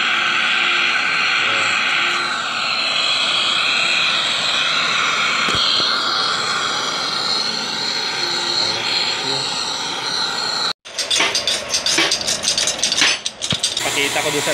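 A deep well pump motor with a failing mechanical seal and a removed bearing runs with a loud, steady, broad mechanical whir and drone, then cuts off abruptly, followed by scattered clanks and handling noises.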